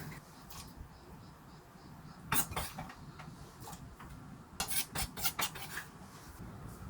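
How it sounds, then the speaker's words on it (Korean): Thin slices of sweet pumpkin are dropped into a pot of water, producing scattered soft clinks and taps against the pot, with a few clustered knocks close by and quiet surroundings. "호박을 다 넣었습니다"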